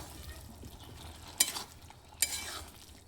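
Potato and pointed gourd curry bubbles in a pan of oil and ground spice paste, a soft steady simmering hiss broken by two sharp utensil clinks.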